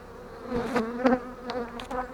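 Honeybees buzz close by at an open hive full of acacia honey, a dense wavering drone with individual bees swelling louder as they zip past.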